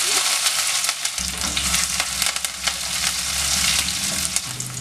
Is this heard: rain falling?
no